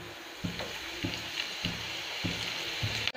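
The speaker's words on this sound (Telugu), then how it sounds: "ఇలా ఆనియన్స్ అనేవి గోల్డెన్ కలర్ వచ్చే వరకు డీప్ ఫ్రై అనేది చేసుకోవాలి" Onion pakodas deep frying in hot oil, a steady bubbling sizzle with soft periodic plops and clicks as pieces are added, close and unbroken by speech.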